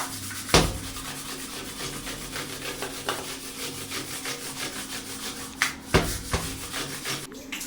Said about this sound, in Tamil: அதுக்கப்புறம் இந்த ப்ரஷ் வச்சு க்ளீன் பண்ணும்போது ரொம்பவே ஈஸியாக இருந்துச்சுங்க